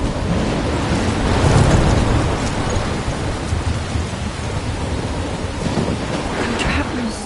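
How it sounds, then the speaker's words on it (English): Heavy rain pours continuously during a thunderstorm in the video game Life is Strange, loud and dense, with a low rolling rumble of thunder swelling early on; no voices. "I'm trapped in a storm?"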